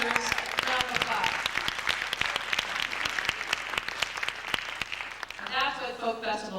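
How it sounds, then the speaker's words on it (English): An audience at a folk festival claps in a full, sustained round of applause, with individual sharp claps standing out near the front, then a voice starts speaking at the end. "This man deserves a round of applause."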